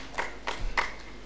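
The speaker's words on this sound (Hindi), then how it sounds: "जोरदार तालियां ठोको भाई इसके" Applause from an audience at a yoga and Ayurveda session, a few scattered claps heard as short bursts over about a second, fairly close and without any talk.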